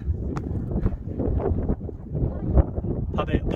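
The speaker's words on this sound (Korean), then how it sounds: "바람 소리 들리나요?" Wind on the summit of Geumjeongsan mountain buffets the microphone in a continuous low rumble with gusty surges, with faint voices in the background.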